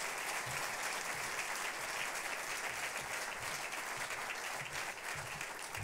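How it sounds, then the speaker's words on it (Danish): An audience at a Fredericia culture and sports festival gives sustained, dense applause that stays even and fairly distant, with no voices rising above the clapping. "Klap af Peter Tind, det er ham, der har ordet nu."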